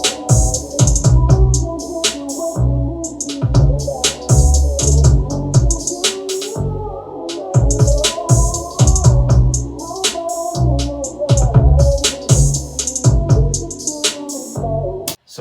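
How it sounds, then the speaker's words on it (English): A busy drum loop with crisp hi-hat ticks, a second hi-hat layered alongside the first, over thumping kicks and other percussion, dense and steady, with no talking. "that's when I brought in that second hi-hat to play alongside that first one"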